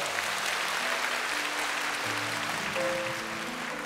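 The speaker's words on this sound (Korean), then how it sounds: "우리 세례 받으신 세 분을 위해서 축복의 박수 부탁드리겠습니다" A church congregation at a Sunday service claps steadily for three newly baptized members, a dense, even wash of applause with soft sustained music tones beneath it.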